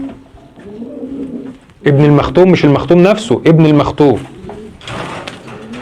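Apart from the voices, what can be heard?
pigeons cooing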